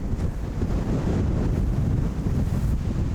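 Strong wind roars across the microphone during a disc golf round, a loud, continuous low rumble and hiss with gusting swells throughout, no voices.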